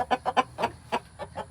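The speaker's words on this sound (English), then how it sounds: "I need to catch me a rooster and a hen." Chickens, a rooster and a hen, cluck in a quick series of about seven short, close calls, with no talking.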